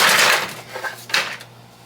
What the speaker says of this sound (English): Now we're going to put the onions in with the ice.